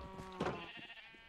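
Sheep bleating in the Minecraft video game, a short wavering bleat standing out over a soft background, with a faint tonal game sound trailing after it.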